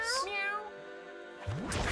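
Kittens meow in the Mewgenics video game, two short high mewing calls at the start and end of a brief moment, with a voice talking through the middle.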